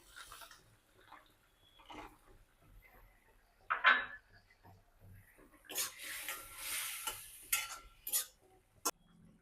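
Peanut bhujiya is cooked into a buttermilk curry, with sparse, quiet clinks and scrapes of a utensil stirring a pan, scattered irregularly and growing busier toward the end.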